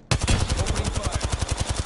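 Rapid automatic gunfire from a weapon in the Apex Legends video game, a loud, steady burst of evenly spaced shots that runs for about two seconds without speech.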